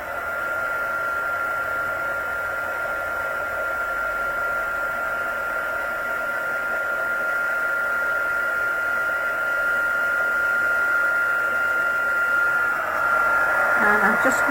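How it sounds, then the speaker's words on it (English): Heat tool blowing steadily to melt embossing powder, a constant whirring hiss of hot air held at an even level throughout with no talk. "So I'm just allowing this to heat up first."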